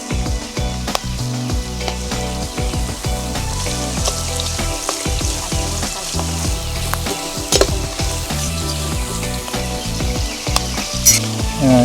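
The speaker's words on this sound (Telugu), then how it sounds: "ఇప్పుడు ఎర్రగడ్డలు వేగుతున్నాయి కదా" Chopped onions with salt and turmeric fry in a pan for a village-style Rayalaseema fish curry, giving a loud, steady crackling sizzle close up, with frequent small clinks and pops throughout.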